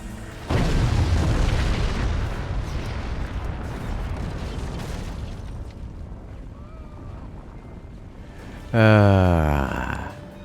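In the video game Forts, a deep, booming cannon shell explosion rolls out and slowly decays, followed near the end by a second sharp blast with a bright, ringing tail.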